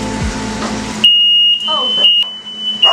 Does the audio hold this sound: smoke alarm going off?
yes